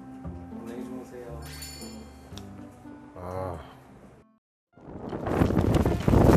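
Sudden wind gusts outdoors in Pocheon buffet the microphone in a rough, roaring burst near the end, after a stretch of people talking.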